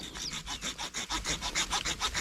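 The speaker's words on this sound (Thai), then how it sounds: "กำลังเลื่อยครับผม" A small hand saw cutting wood in quick, regular back-and-forth strokes, close up and rhythmic, with no talking.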